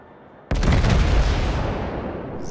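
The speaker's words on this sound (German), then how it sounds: "Dann können meine dicken Kanonen mal ein kleines Feuerwerk auf der New York machen." A naval gun salvo from the US battleship New Mexico in the World of Warships video game: one sudden loud boom that rolls into a long, heavy rumbling decay, with no voices.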